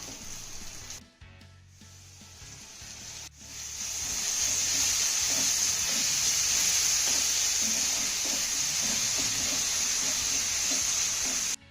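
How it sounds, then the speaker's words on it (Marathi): Chopped onion and tomato sauté and sizzle in a hot pan, a steady loud frying hiss after a few brief stirring clatters at the start, with no talk. "तर इथे आपला कांदा टोमॅटो छान असा मौसूद परतून झाला"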